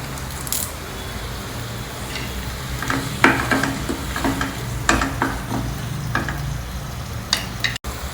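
Fresh curry leaves sizzle and crackle in hot oil for a South Indian vendakkai kuzhambu, with a steady frying hiss and scattered sharp pops and spatters throughout, close and fairly loud, no talk.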